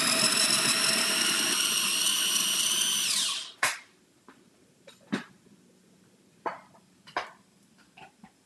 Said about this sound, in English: I'm gonna grind this up